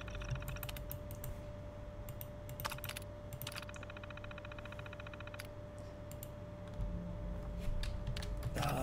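Close, quiet keystrokes on a computer keyboard tap in quick irregular bursts with short pauses over a faint steady hum, with no voices.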